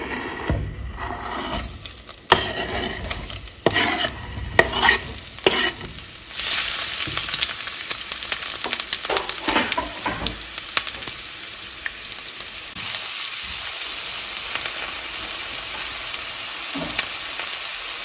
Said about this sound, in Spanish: En una cacerola con aceite vamos a agregar una cebolla cortada en medias lunas.